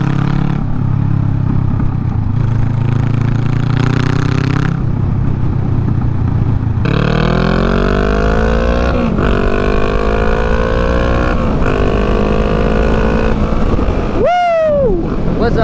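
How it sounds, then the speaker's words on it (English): A Honda Rebel motorcycle with a muffler delete runs loud and close, its raw engine note rising and falling with throttle changes and a sharp rev near the end, with strong wind noise throughout. "I love the muffler delete"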